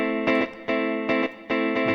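Clean electric guitar arpeggio with effects switched off, played from a guitar-mode arpeggiator plugin: sustained chordal notes with bright attacks landing in a regular rhythm roughly every 0.4 seconds, clear and alone.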